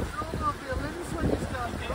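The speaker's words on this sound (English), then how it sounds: "It is quite windy here, so I don't even know if you can hear me." Gusty wind buffets a microphone on a mountain bike race track in Val di Sole, giving a steady low rumbling roar with uneven surges, and muffled voices blur beneath it.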